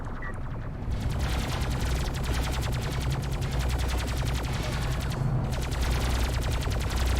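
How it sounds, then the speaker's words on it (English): Rapid gunfire from units in the real-time strategy game Homeworld: Deserts of Kharak, bullets striking a Baserunner vehicle in dense continuous volleys, loud and close, with two brief pauses and no voices. "Just the noise of those bullets hitting the base burner."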